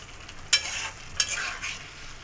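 Boiled eggs are stirred gently through garam masala in a pan, two soft scraping strokes over a low steady sizzle, close by and quiet.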